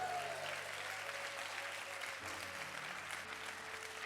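Church congregation applauding at an evangelical service led by Pastor David Araujo, a steady dense wash of clapping lasting several seconds, with faint sustained tones from music or a keyboard held underneath.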